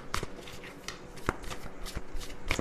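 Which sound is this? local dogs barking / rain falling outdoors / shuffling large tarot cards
shuffling large tarot cards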